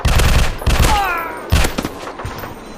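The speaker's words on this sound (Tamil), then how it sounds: "எங்கே போய் சுடுது பாருங்க புல்லட்." Gunfire in an offline mobile shooting game in PUBG style, loud bursts of shots in two clusters with a brief ricochet-like whine between them, fading out toward the end.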